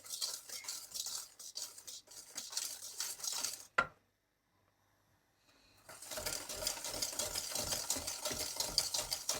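Continuous scraping and stirring of melting sugar in a pan, a spoon working steadily, breaking off into silence briefly before resuming with rhythmic scrapes.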